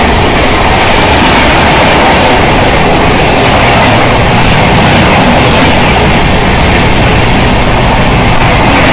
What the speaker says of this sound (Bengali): ডান দিক দিয়ে পাস করবে ফলকনামা এক্সপ্রেস।